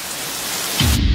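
Steady heavy rain hisses loudly as a dense, even wash of noise, swelling near the end with a deeper rumbling layer, with no voices.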